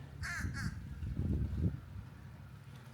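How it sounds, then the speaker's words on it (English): Two harsh crow caws ring out close together near a lake and dam area, with a third starting at the end, over low wind rumble outdoors. "Got some birds flying around out here."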